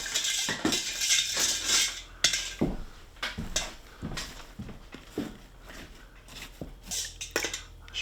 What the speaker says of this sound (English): Stir it in. Let it dissolve.